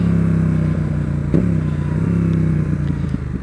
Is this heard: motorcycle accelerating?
yes